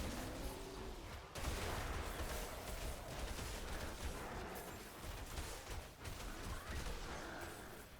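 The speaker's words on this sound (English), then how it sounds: "Nice big explosion there." A loud, sudden explosion in the video game Diablo IV bursts out and gives way to a dense, crackling roar of blasts and debris that fills the rest of the moment, with no talking.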